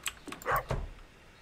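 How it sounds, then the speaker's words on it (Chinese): A few quick, short dog barks from the Stardew Valley farming game, clipped yaps in a brief burst, fairly quiet and heard alone. "狗到底在哪里叫啊？ 一直听到狗在叫。"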